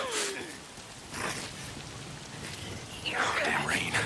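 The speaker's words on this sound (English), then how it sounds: "If it's not the freaks, it's the goddamn rain. Why is it always raining?" Rain falls steadily in the Days Gone video game, a soft wash of drops with brief louder swells. A voice mutters faintly underneath.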